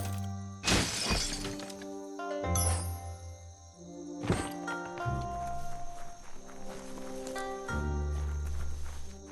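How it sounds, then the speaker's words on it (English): In the video game Biomutant, a box is smashed apart with several sharp cracking, shattering hits spaced over several seconds, set against a steady game background drone. "You shouldn't worry about smashing up the box."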